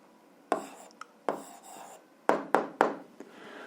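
Handwritten algebra answer on paper for an 8th-grade exercise, heard as a few short scratchy pen strokes in separate bursts, close and fairly quiet, with no talking.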